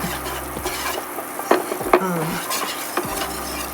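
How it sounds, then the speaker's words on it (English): A wire whisk scrapes and taps through enchilada sauce browning in a pan, with a soft sizzle underneath and a few sharper metallic knocks against the pan's side. "stirring this with a wire whisk until it starts browning"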